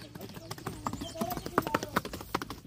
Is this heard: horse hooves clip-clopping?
yes